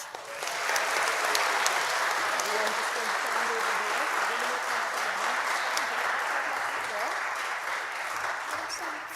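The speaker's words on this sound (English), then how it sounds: "So can we have a huge cheer for Leon Black?" Churchgoers at the Holy Fair in Mauchline Church burst into loud sustained applause for Leon Black, a thick, even roar of clapping that starts abruptly and holds steady, with a voice talking faintly underneath.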